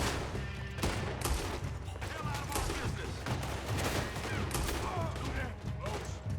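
Gunfire in the video game Red Dead Redemption 2, a sustained, chaotic volley of many overlapping shots cracking in quick succession, with a voice mixed in beneath the shooting.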